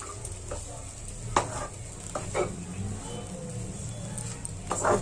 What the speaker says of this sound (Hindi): पोहे को अच्छे से मिक्स करेंगे।